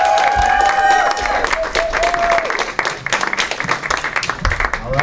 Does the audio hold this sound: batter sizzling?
no